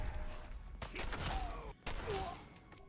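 Gunfire in Fallout 4, with several quick, muffled shots that come fairly faint among low game ambience.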